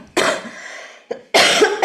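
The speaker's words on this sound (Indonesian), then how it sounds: "Sisa-sisa batuk" Two harsh, loud coughs close to the microphone from someone still getting over an illness, each a forceful burst with a brief catch between them.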